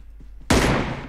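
A loud, sharp gunshot bursts out in PUBG Mobile KR after a few faint thumps, its blast ringing and slowly decaying.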